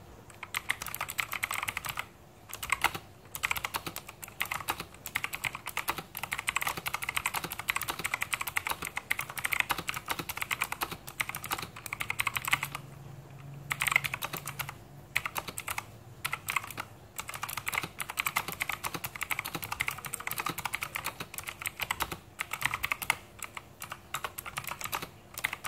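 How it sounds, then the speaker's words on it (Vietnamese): Typing on a Zero TKL mechanical keyboard with blue switches fills the span with dense, crisp clicky keystrokes in quick uneven bursts and brief pauses, close and unaccompanied by any voices. "cái con này cũng là phím cơ Blue Switch nên tiếng của nó cũng kêu rất là to và sẽ có click"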